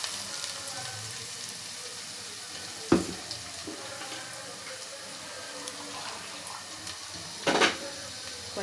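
Masala paste frying in a pan, with a steady low sizzle throughout and a few louder stirring or scraping clatters near the start and end.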